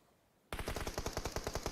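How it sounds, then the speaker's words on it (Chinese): Rapid automatic gunfire in a PUBG Mobile match on the Sanhok map bursts in after a short quiet moment and runs as a loud, fast, evenly spaced string of shots. "已经漏枪声了啊"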